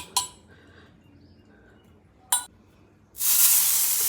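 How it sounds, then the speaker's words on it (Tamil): Oil goes onto a hot dosa griddle before bitter gourd is fried. Two sharp knocks come first, then a sudden loud, sustained hiss of sizzling oil close by, with no voices. "இப்போது கல் காஞ்சிருச்சு எண்ணெய் விட்டுக்கலாம்"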